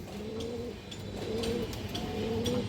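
A large-headed silver pigeon coos three times in a low, repeated rhythm, close and clear over steady background noise.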